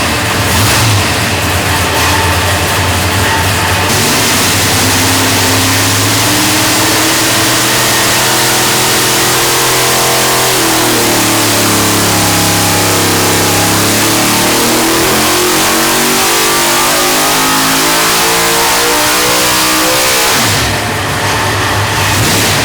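A 1000+ horsepower big block engine built for a mud bogger roars on a dyno in one long, very loud pull, the pitch climbing steadily, then falling and rising again before cutting back to a lower rumble.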